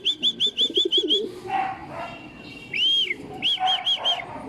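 Racing pigeons returning from a training toss in San Jose, Nueva Ecija: clear repeated high chirping calls in quick runs near and loud, a few soft coos, and flutter of wings between them.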